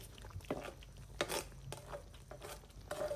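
Vegetables, with shrimp nearby, lightly sautéed in a restaurant-style Chinese pan: a soft sizzle under repeated stirring scrapes and a few louder clatters of utensil against pan, fairly quiet and close.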